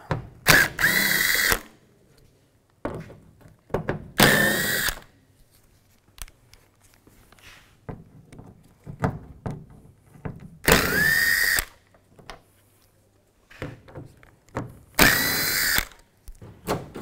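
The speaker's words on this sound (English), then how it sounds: "We're going to take these screws out right here. There's 4 of them. Use a T30 socket." Power drill fitted with a T30 socket backing out the four tailgate spoiler screws on a 2007-2013 Chevy Silverado 1500, four loud whirring bursts of about a second each separated by quieter handling clicks and rattles.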